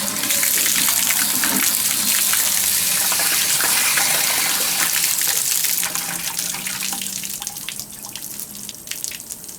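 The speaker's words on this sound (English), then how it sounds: "And I'm going to give this tank a good flushing." Water gushing and splashing steadily out of the drain of an RV water heater tank being flushed. The flow is loud and close, then eases slightly after about six seconds into a lighter, dripping stream.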